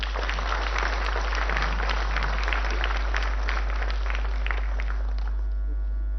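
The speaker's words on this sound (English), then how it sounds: "Heartily welcome to all of them with a huge round of applause" Applause from a conference audience of dignitaries fills the hall as a dense, steady wash of many hands clapping, continuing evenly for several seconds before thinning out near the end over a constant low hum.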